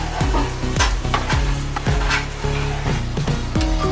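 A spoon scrapes and stirs chicken gravy with red chili powder in a sizzling pan, loud and close, with repeated rhythmic strokes over a continuous frying hiss.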